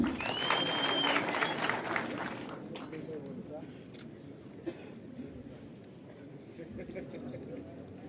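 Crowd at a Kenya Kwanza political rally clapping in welcome, a dense burst of applause that fades after a couple of seconds as a speaker's amplified voice carries on over the quieter crowd.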